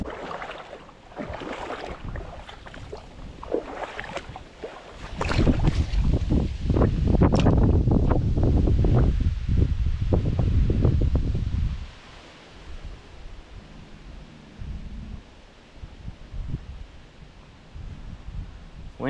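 Strong wind gusts buffet the microphone beside a small creek, a loud roaring rush in the middle that eases to a lighter rustle, with no voices.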